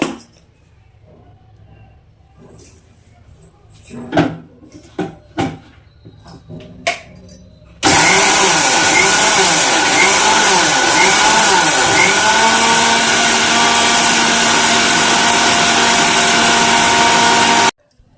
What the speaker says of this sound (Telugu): ఇంకా ఇప్పుడైతే మిక్సీ పట్టేసుకోవడమే